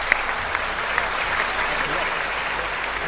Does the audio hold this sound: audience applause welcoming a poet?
yes